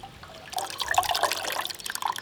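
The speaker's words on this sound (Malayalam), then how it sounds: "ഇങ്ങനെയാണ് പുളി അരിക്കുക." Tamarind pulp from Palakkad tamarind squeezed and strained through water by hand, giving soft wet trickling and dripping with light squelches, steady and close for a couple of seconds.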